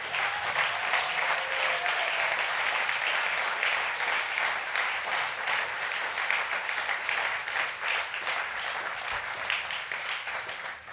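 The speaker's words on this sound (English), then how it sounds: "a round of applause for our outstanding students" A large audience applauds students at an awards ceremony, dense continuous clapping that stays loud and even throughout before tapering slightly at the very end.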